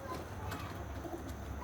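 A male pigeon coos softly in a few low, rounded calls against a quiet, steady background hum on a farm.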